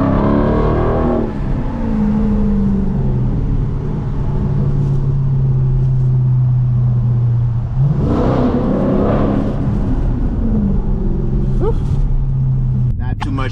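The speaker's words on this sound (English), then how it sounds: "But incredible sounding exhaust she has now with this muffler delete, this mid muffler delete." A Dodge Charger Daytona 392 with a mid-muffler delete drives in street mode through traffic, its exhaust giving a loud steady low drone with two rising revs as it accelerates, close and dominant throughout.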